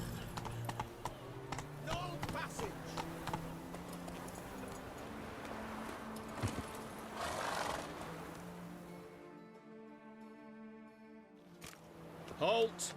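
A horse clip-clops along in The Witcher 3, hooves thudding steadily under game music and ambient sound, with voices speaking partway through.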